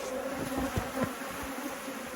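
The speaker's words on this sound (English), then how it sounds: "I've got that many bees around my head" Bees swarm and buzz around an open hive after a Black Mountain F1 Buckfast queen is introduced into an angry colony, a steady close drone with several louder passes near the ear.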